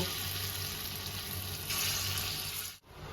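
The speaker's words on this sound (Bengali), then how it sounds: "একই রকমভাবে আমি বাকি বড়াগুলোকেও ভেজে নেব" Lentil fritters (bora) fry in a pan of oil, giving a dense, even sizzle that holds steady, then briefly cuts out near the end.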